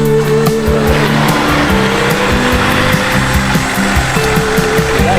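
A motorcycle engine drones close by and loud while riding across a bridge on a hiking trip in Nasugbu, Batangas, its note rising and falling with throttle changes over steady wind and road noise.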